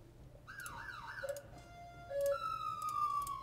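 Police car siren in a video game, a faint wailing tone rising and falling, then a steadier high tone that slowly drops in pitch as it passes, with light ticking underneath.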